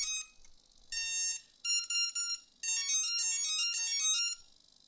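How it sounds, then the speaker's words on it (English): A drone's ESC, powered from a single connected battery, plays a series of bright electronic beep tones. The short melodic phrases step up and down in pitch, with pauses between them, clear and alone. "I'm going to connect a single battery in our case and listen for the beep."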